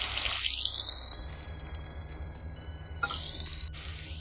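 Finely chopped onion sautéing in hot oil for a green-masala vam fish curry, a steady close sizzle with broad hiss running throughout, a brief clink near the end, no talking.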